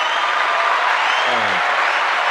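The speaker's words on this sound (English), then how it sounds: "So let's give another round of applause for you," A crowd claps steadily and loudly throughout, a dense, continuous wash of applause.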